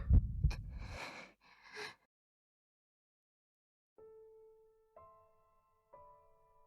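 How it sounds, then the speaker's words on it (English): A loud heartbeat effect from a visual novel game opens with a couple of heavy, deep thumps and a brief rush of noise. A few quieter, sustained tonal hits follow at one-second intervals. "My heartbeat sounded very loud."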